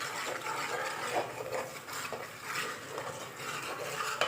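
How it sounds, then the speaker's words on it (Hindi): Wheat flour being dry-roasted and stirred in a pan for a winter flour soup gives a steady, close scraping and rustling texture with small clinks of the spoon against the metal, continuous throughout with no talking. "इस तरीके से हमने आटे को भूनना है जिस तरह से बिल्कुल हम भूनते हैं।"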